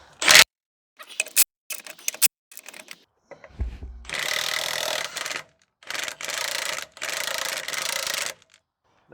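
An impact tool or ratchet with a 22 mm socket works a cross-threaded lug nut on a Ram 1500 pickup during a brake job, giving clicks and then several sustained loud whirring bursts.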